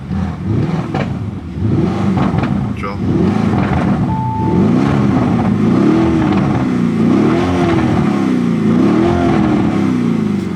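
A sports car engine, set to Corsa mode, revs repeatedly with exhaust pops, its pitch rising and falling in loud, close surges, while someone speaks briefly over the rumble.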